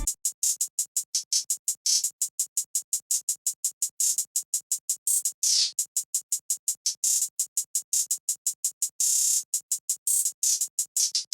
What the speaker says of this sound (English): the finished hi-hat pattern is sounding like this